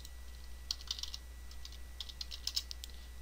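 Quiet, soft keyboard typing on a computer while editing a web page file, a few light bursts of clicks over a steady low hum, no talking.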